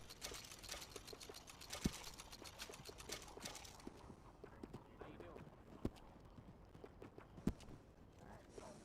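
Horse hooves clop in Red Dead Redemption 2, a quick, steady rhythm of hoofbeats at first that slows into sparser, heavier steps with a few louder thuds.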